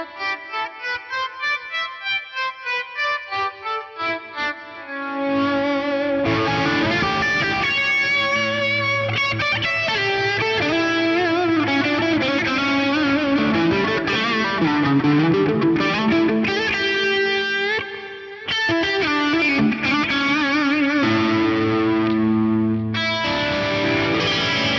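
Electric guitar notes swell in gently one after another through a NUX MG-300 MKII multi-effects unit, then bloom into a dense, sustained wash thick with echo repeats and lingering reverb, played alone.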